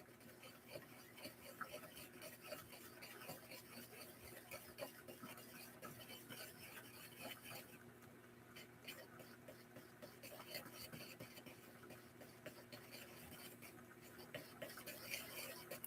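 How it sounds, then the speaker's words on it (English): A big dotting tool stirs acrylic paint for decorating a wood slice as festive Christmas decor, a faint, close scraping and tapping that repeats steadily with a low hum underneath. "I'm going to use my big dotting tool to stir this"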